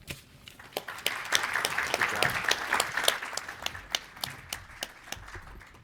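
A conference audience applauds panel speakers in a large hall, dense steady clapping from many hands filling the room for several seconds at moderate loudness, without speech.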